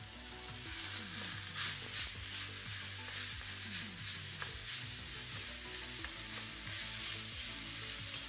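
Food for a low carb lasagne sizzles and fries in a pan while a wooden spoon stirs it, a steady crackling hiss with repeated scraping strokes, moderately quiet and continuous with no talk.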